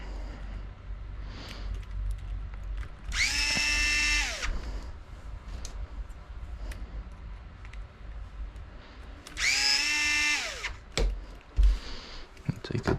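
A power drill snugs screws while an Ongaro B21.04 motor is serviced, whining up and down in two short bursts about six seconds apart, with quieter handling noises between.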